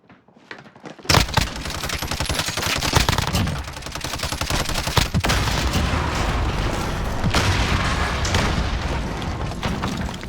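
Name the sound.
explosions and gunfire in a shooter video game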